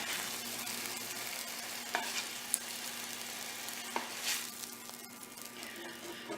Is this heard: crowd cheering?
no